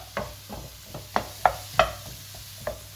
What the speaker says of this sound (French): avec une petite cuillère en bois, on mélange tout ça